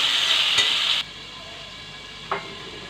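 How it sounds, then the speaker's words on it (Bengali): Potatoes frying in hot oil in an old black wok give a bright, hissing sizzle that cuts off after a second, leaving a quiet background and one short clatter. "এখন আলুটা আগে ভেজে নিচ্ছি"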